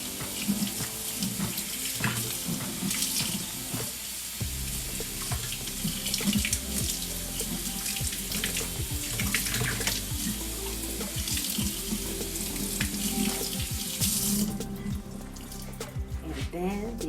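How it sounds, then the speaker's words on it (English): Tap water pours steadily over oxtails in a kitchen strainer, a loud continuous splashing rush with small knocks and clatter throughout. "the strainer, and then I rinse them."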